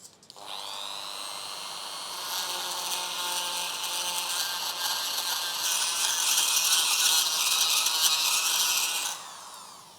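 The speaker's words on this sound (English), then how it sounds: "Drill the sherds from the same area where you took the food crust." A small rotary drill whines steadily into an archaeological ceramic sherd to grind powder, close and continuous for about nine seconds. The pitch tightens slightly as it bites, and the sound cuts off abruptly, with no talking.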